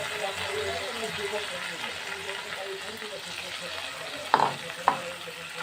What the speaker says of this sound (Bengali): পালং শাকের সাথে এইভাবে মশলাটা আমি একটু ভালো করে একটু কষিয়ে নেব